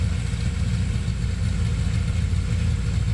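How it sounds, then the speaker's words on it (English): A 1973 Dodge Dart Sport engine runs with a steady, loud, low rumble throughout, holding a near-even idle rather than clear rising revs, with no voices. "Come on, I want to hear some revs out of that thing."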